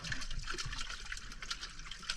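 Water splashing and trickling steadily as it is bailed out of a boat, a close, continuous wet pouring with small irregular splashes throughout.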